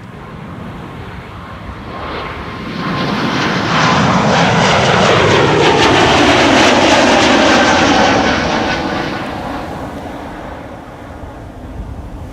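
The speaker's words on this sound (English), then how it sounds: "Croatia Airlines, Bombardier C-Series 300 to Zagreb" A Croatia Airlines Bombardier C-Series 300 jet departs Amsterdam Schiphol for Zagreb, its roar swelling loudly as it passes close by, with a sweeping pitch shift before slowly fading.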